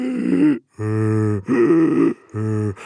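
A voice imitates harsh, strained obstructed stridor breathing, four rasping, grunting breaths in and out, close and loud, with short gaps between them.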